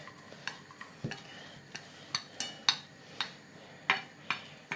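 Lemon juice being stirred into a poké bowl: a spoon taps and scrapes against the bowl in a steady series of light clicks, close and fairly quiet, with no talking.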